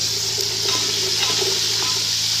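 Garlic and ginger fry in a pan for dhaba-style chana dal palak, giving a steady, loud sizzle with soft scraping from stirring over a constant background hum.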